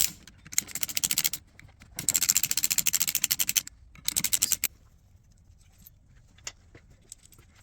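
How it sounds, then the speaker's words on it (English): Bolts come off the clutch cover of a KTM 890 Adventure motorcycle in rapid bursts of close ratcheting clicks from a hand tool, separated by short pauses, then light metallic taps. "Just the back of the clutch cover. Just taking these bolts off."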